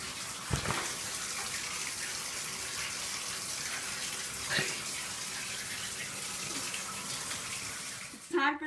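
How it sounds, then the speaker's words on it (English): Shower water runs steadily after a swim, a continuous broadband hiss with a few brief knocks and a louder clatter at the very end. "After a long, hard day of swimming, it's shower time."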